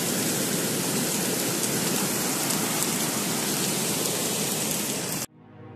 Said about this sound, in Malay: Wah, hujan obat ni.